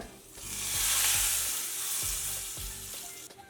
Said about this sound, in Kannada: ಹಿಂಗೆ ಹಾಕಿರೋ ಒಗ್ಗರಣೆ ಸೇರಿಸ್ಕೊಳ್ಳೋಣ